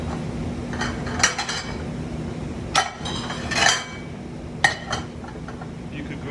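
Dinner bowls set out for pasta e patate, with several clear ceramic clinks and knocks spaced a second or so apart over a low kitchen background hum.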